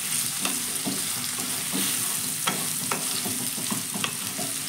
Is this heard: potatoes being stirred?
yes